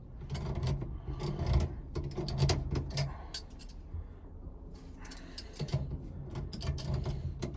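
Milwaukee channel lock pliers working a tool during a turn signal switch replacement on a 1980 square body Chevy, heard as close, faint metallic clicks and ratcheting taps in irregular bursts with brief pauses.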